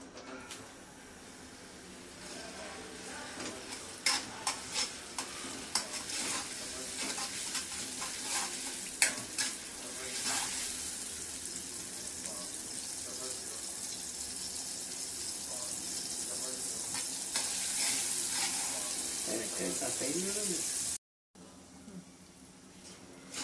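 Thecha chili paste for Khandeshi-style vangi bharit fries in a pan with a steady sizzle. Irregular scrapes of stirring cut through it, and the sound drops out briefly near the end.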